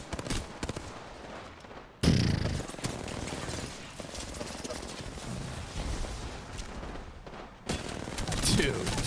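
Rapid automatic gunfire from an Apex Legends match comes in sustained bursts with abrupt cuts between segments, dense and fairly loud, while people talk over it.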